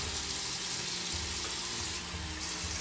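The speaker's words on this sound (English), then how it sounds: "I like to do two rinses, one with the warm water" Warm tap water runs steadily from a faucet as a face is rinsed, a continuous close hiss and splash with no pauses.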